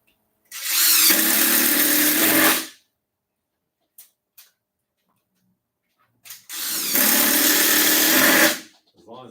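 A power drill drives 2.5-inch screws into holes in two long whirring bursts of about two seconds each, close and loud, with a couple of small clicks between them.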